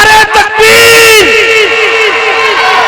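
A large crowd at an outdoor religious gathering in Kot Araya Wala Khudian roars a loud unison slogan in reply to an amplified call from a speaker. The shout rings through loudspeakers with echo and fades into a sustained crowd din.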